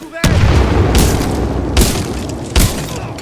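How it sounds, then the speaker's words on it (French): A grenade blast in the video game Titanfall 2, heard as a loud, close boom followed by several more booming bursts and cracks over about three seconds. "Grenade!"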